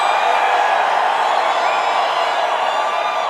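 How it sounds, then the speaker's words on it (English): A packed political campaign rally in Atlanta fills the air with a broad, steady crowd roar that holds at a constant loud level without distinct shouts standing out. "a crowd like this has a roar"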